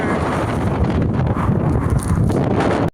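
Strong wind buffets the microphone, a loud continuous roar with gusty rumbling throughout.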